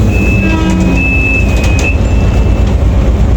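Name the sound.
Volvo B11R bus running on TransJakarta corridor 11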